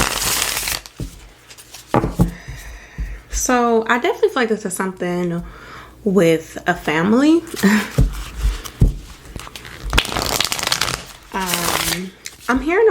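Tarot cards are shuffled in bursts of crisp riffling and rustling, close to the microphone and mixed in with someone talking.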